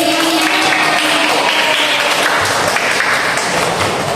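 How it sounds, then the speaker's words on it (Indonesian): Applause in a classroom: a room full of students clapping together, loud and dense for the whole stretch, continuous without pauses and no talking over it. "Tepuk tangan dulu."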